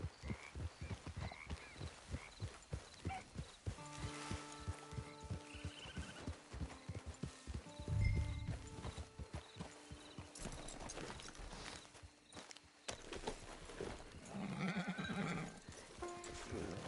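Hooves clip-clopping at a walking pace with a horse snorting and whinnying in the video game Red Dead Redemption 2, set against ambient outdoor tones and faint music.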